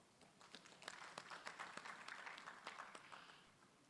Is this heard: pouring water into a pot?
no